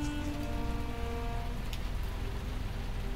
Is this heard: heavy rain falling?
yes